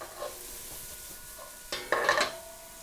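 Corned beef hash frying in a pan, a quiet sizzle with light scrapes early on, then a burst of louder stirring and crackling toward the end, close by and without talk.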